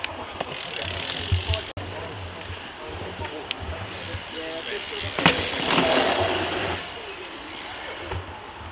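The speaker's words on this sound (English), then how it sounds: "here's my first ride on an NS bike" New NS mountain bike ridden on a sandy trail, with tyre rumble, rattling and freewheel clicks, wind noise and a few sharp knocks, while a voice is heard at times.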